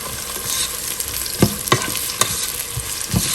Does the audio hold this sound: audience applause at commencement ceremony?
no